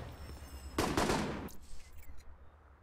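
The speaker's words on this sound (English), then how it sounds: "unless you get into a prolonged firefight like this" Gunfire from a firefight in the video game Alpha Protocol, a short burst of rapid shots lasting about a second followed by a few fainter cracks against low background noise.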